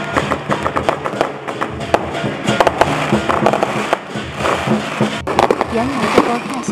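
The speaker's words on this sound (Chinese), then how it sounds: "原来是爆炸效果。" Explosion-like bangs and fireworks-style crackling go off during a rainy temple procession seeing off a deity in Kedah. Sharp, rapid bursts repeat loudly over a busy crowd with voices.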